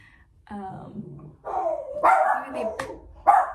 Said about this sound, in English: why are you guys barking?